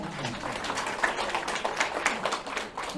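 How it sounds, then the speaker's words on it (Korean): A church congregation claps for the pastor after the sermon, with scattered, steady clapping running evenly throughout at moderate loudness and a faint voice underneath. "말씀 주신 목사님께 큰 박수 부탁드립니다."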